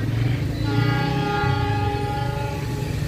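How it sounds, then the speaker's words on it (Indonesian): A long, loud horn from a high-speed Surabaya–Jakarta express train blares steadily for about three seconds before departure, a sustained multi-tone blast over low rumbling station noise. "sudah mulai klakson, kita tunggu keretanya berangkat"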